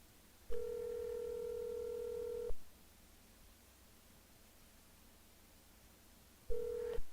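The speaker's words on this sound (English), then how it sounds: "I'm going to let it ring 3 times." A telephone call rings out as a steady electronic ringback tone lasting about two seconds, followed by a long silent gap before the next ring begins, clear and alone without voices.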